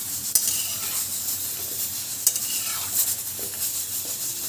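Papdi dough pieces frying in oil for homemade chaat, with a soft continuous sizzle and a few light clinks and stirring scrapes, fairly quiet and close, with no talking.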